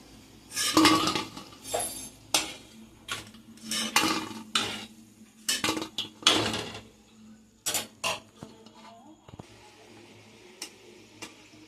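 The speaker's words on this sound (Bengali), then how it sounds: "আমার ফুরুলিগুলো ভাজা হয়ে গেছে। আমি এবার তুলে নিচ্ছি।" Metal utensils clink and scrape against a pan as fried fritters are lifted out, a series of sharp, close knocks and clatters in irregular bursts.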